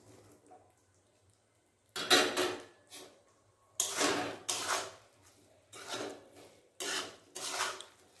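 Fried soybeans stirred and sautéed in a pan, heard as a series of loud scraping, rasping strokes in separate bursts with quiet gaps between them.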